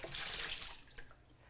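Hot water running from a kitchen tap for bread baking, a soft steady hiss of flowing water that thins out and fades after a moment, quiet and close, with no talking.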